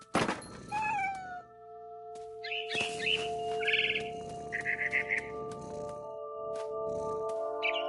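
A cat meows several times in the video game What Remains of Edith Finch, with short high-pitched calls over a sustained ambient tonal backdrop and scattered birdlike chirps, fairly quiet overall.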